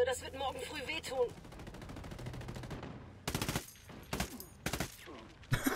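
Bursts of automatic gunfire and rapid shots crackle through a Ghost Recon Wildlands co-op firefight, with dense clusters of sharp reports amid game effects and some voices, moderately quiet overall.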